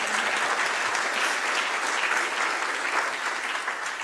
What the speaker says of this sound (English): Also, you may clap now.